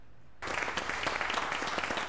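Clapping starts abruptly and continues as a dense, steady burst at a city council meeting, greeting the incoming fire chief after a unanimous vote, with no talk over it.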